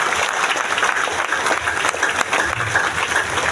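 A large crowd claps loudly and continuously at a mega event in Latehar, Jharkhand, a dense, even burst of applause with faint voices underneath.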